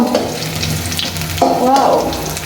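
Fish fries in hot oil in a kadai, a loud, continuous close sizzle with a sudden burst of crackling as pieces are stirred.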